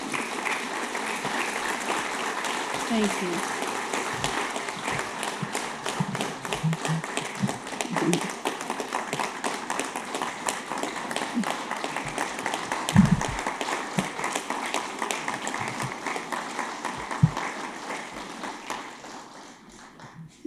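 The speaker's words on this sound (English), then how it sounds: "let's give them a round of applause" A crowd at a City of Lubbock recognition ceremony honoring military service gives a long round of applause, a dense, steady clatter of many hands that gradually thins and fades out, with a voice briefly speaking partway through.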